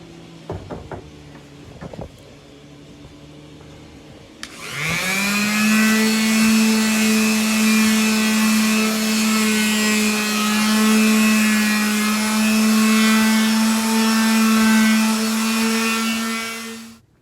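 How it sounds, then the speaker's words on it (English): Long wooden boards for a DIY noodleboard are sanded. A few brief knocks come first, then a loud, steady whine of a power sander runs on without a break. "We're going to work on the two long pieces now, get them sanded down, get ready for stain."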